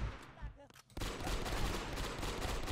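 Sustained rapid fire from a mounted gun in the video game Brick-Force, a dense continuous burst of shots after a brief quieter opening with faint voice.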